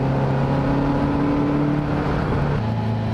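A 2013 Caterham Seven Roadsport with a 125-horsepower 1600 Sigma engine runs steadily with a droning, humming engine note that shifts pitch slightly partway through, close and constant, with no voices.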